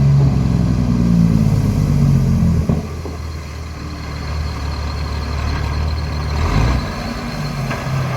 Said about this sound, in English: Yeah, found the Jake brakes.